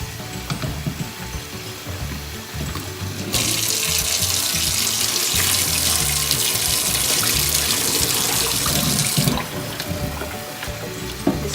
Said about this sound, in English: And all you have to do is rinse it with cold water.